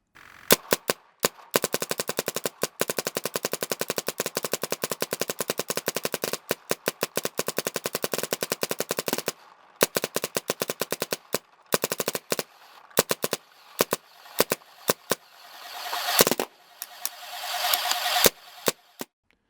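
Spyder Pilot ACS paintball marker firing rapid bursts of sharp, close pops in long strings, with brief pauses and uneven stretches where the rhythm stutters, followed by scattered single shots and louder hissing bursts near the end.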